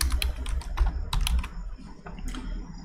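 Keys on a computer keyboard clatter in quick, uneven bursts of close clicks, pausing briefly before a few more taps, with no talking.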